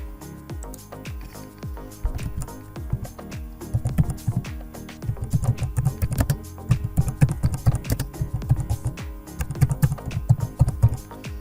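Rapid clattering keystrokes on a computer keyboard while entering text in Padlet. The bursts come in uneven clusters that grow denser after the first couple of seconds, with a low murmur underneath and no voices.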